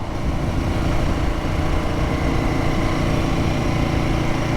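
Royal Enfield Guerrilla 450 motorcycle with its Sherpa 450 single-cylinder engine running, a steady, loud, close mechanical drone with constant low rumble and no speech.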